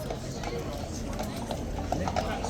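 Horse hooves clip-clopping in a steady, dense patter under ongoing talk and crowd noise.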